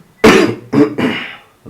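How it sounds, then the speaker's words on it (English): A person with the flu coughs, two to three harsh, close bursts in quick succession, the middle one shortest, with near silence around them. "I'll be coughing some of the time."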